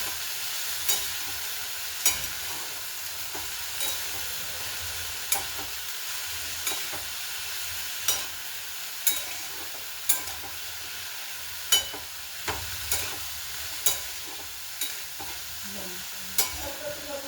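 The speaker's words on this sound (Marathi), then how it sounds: "थोडी गोल्डन ब्राऊन होईस्तोवर तिला परतून घेते" Cauliflower pieces fry in a pan with a constant soft sizzle while a spoon stirs and scrapes at regular intervals, sharp taps recurring about every second or two at close range.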